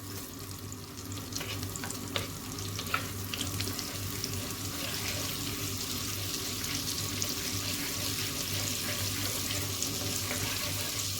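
Cumin seeds fry in hot oil in a pan, a steady close sizzle with crackly pops and a faint low hum underneath, continuous throughout.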